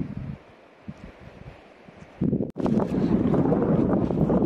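Wind and sea water on the northern Brittany coast. Quiet gusts and rustling give way to a loud, sustained roar of wind buffeting the microphone, mixed with rushing water, and no one speaks.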